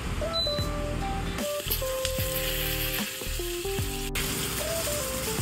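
Hotdogs fry in a pan with a steady, close sizzle and crackle. Stirring and scraping run underneath, with a few tonal beeps and hums in the background.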